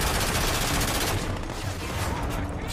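A P90 submachine gun firing in the video game Modern Warfare 3, rapid-fire gunfire in a dense continuous burst that thins out partway through.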